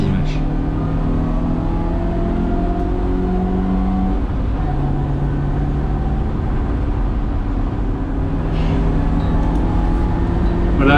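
A BMW E30 race car's 150-horsepower engine at a 24-hour endurance race, a steady, loud droning hum with sustained tones held throughout.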